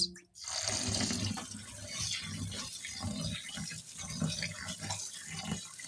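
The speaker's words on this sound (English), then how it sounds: "So I want to wash it." Rice being swished and rinsed in a bowl of water, with continuous splashing and trickling close by, a steady wet churning for several seconds.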